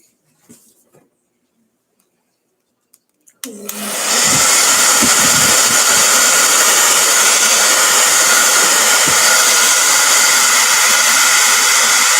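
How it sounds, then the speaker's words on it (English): A hair dryer switches on after a few seconds of near silence and runs at a loud, steady whooshing roar for the rest of the clip. "Hair dryer time."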